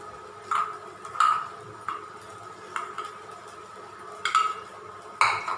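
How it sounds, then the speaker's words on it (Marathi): Spatula stirring sabudana khichdi with peanut powder in a pan over low gas: soft scraping broken by about six light metallic clinks at an uneven pace, faint and close. "आणि असं चांगलं परतून घ्यायचं. बारीक गॅसवरतीच परतायचं."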